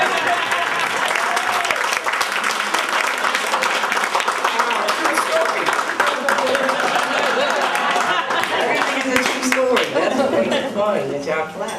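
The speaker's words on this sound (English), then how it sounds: "Funny that y'all clap." A live audience at a spoken-word performance breaks into sustained, loud applause, with dense clapping and crowd voices mixed in throughout.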